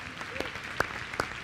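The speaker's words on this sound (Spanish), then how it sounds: "Dele un aplauso al Señor esta mañana." A church congregation applauds during a Spanish-language sermon, a soft, steady patter of many hands with a few sharper claps standing out, faint and somewhat distant.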